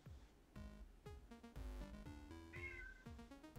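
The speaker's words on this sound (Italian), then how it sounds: "Senti il micio." A house cat meows at a door, wanting to come in, over loud background music with plucked, struck notes; the meow is faint and brief.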